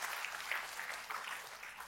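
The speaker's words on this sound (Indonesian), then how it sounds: "Tepuk tangannya boleh paling meriah buat Tuhan kita." Church congregation clapping in praise during a sermon, a faint, steady patter of many hands heard from a distance for about two seconds.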